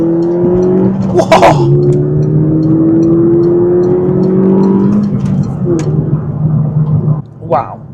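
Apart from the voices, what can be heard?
Peugeot RCZ 200THP car accelerating hard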